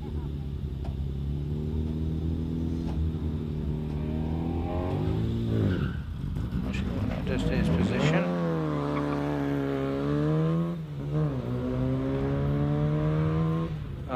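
A Mazda MX-5 racing past at a hillclimb: a loud engine drone rises and falls across gear changes, with a sharp pitch sweep as the car passes close and then carries on at steady revs.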